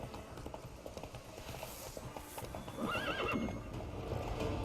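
Roach, a horse in the Witcher 3 video game, gallops with steady clip-clop hoofbeats, then lets out a clear whinnying neigh partway through.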